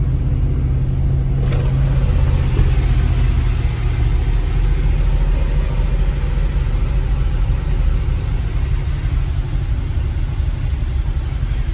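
A 1966 Ford Thunderbird engine runs steadily just after a cold start, a loud, close, continuous low rumble that holds an even idle throughout with no talking.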